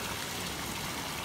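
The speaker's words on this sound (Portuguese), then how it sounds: "Uma água. Já é da fonte." Spring water flows from a natural source in a continuous, close, steady rush with a soft hiss, heard alone without talk.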